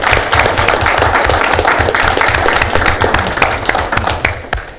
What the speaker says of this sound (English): we'll end this with one more round of applause for Jim